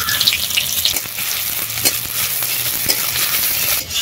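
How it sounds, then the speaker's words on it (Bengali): Chopped onion hits hot oil and fries with a steady, close, loud sizzle, a few soft stirring scrapes and taps rising above the continuous crackle. "তেল গরম হয়ে গেছে, এবার দিয়ে দিচ্ছি পেঁয়াজ কুচি"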